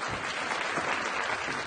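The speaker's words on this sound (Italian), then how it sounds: "Fategli un bel applauso." Steady applause from a crowd, dense clapping at an even loudness throughout, with no voices standing out.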